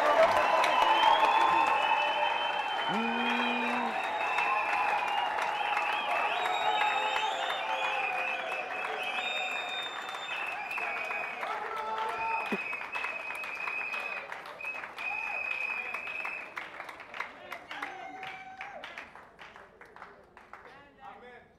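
A church congregation at a French-language service applauds and cheers loudly and continuously, a dense crowd roar with voices calling out, gradually thinning toward the end.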